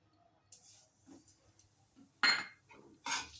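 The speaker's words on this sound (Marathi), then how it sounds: "रवा सारखा हलवत राहायचा, करपवू द्यायचा नाही" Semolina roasting in a spoonful of ghee in a pan on low heat, stirred with a metal spoon: a few sharp scrapes and clinks against the pan, two louder ones near the end, otherwise quiet, with no talking.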